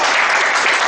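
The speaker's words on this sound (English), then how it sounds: "Shall we give her a round of applause?" Dense applause from a speaking-club meeting audience fills a brief, loud burst.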